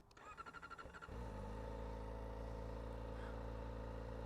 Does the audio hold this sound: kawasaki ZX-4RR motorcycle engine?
yes